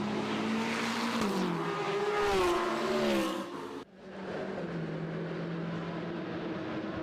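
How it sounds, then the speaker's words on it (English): Supercar Challenge race cars at Circuit Zolder, a mix of inline-six, flat-six and naturally aspirated V8 engines, roar past loudly with shifting pitch before the sound cuts abruptly to a steadier, more distant engine drone. "Beautiful mix of engines there."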